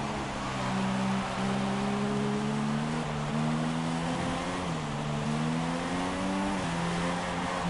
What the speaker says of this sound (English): There we have the group of Ericsson and Kvyat who just went past us